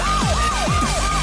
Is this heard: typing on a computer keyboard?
no